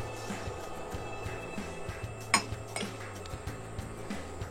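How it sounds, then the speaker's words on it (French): Whole eggs and sugar go into a bowl for upside-down green tomato cake batter, with soft clinks of utensils against the bowl and light tapping, faint and close, with no talk. "On va venir récupérer nos œufs entiers. On va y ajouter notre sucre."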